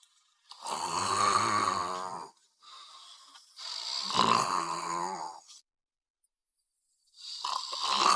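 Three long, rough breathy snores, each lasting about two seconds with short pauses between, close and fairly loud, no talking.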